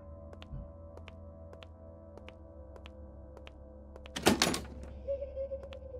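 A door in a horror video game set in a mental asylum gives one short thud and scrape midway through, standing out over a low ambient hum and faint regular ticks.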